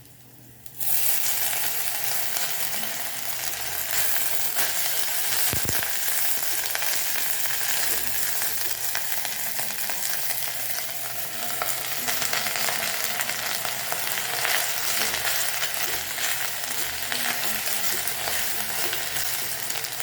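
Washed drumstick leaves go into a pan of browned onions and green chillies, setting off a loud, steady sizzle of frying that starts abruptly and carries on evenly, with occasional stirring clinks.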